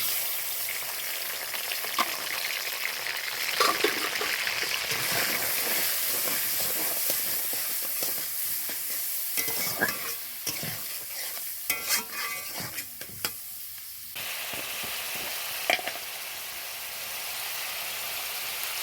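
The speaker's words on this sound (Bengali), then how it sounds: "তেলটা গরম হয়ে গেলে চিংড়ি মাছগুলো আমি কেটে রেখেছিলাম, কারণ আমি ভেজে নেব।" Cut prawns fry in hot oil with a continuous close hiss and sizzle, broken by intermittent scraping and stirring clatter, no voices.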